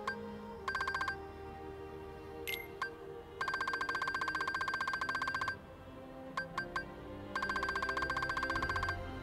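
An electronic gummi phone rings in Kingdom Hearts III, three bursts of rapid trilling tones separated by short chimes and beeps, clear and moderately loud over a soft game backdrop.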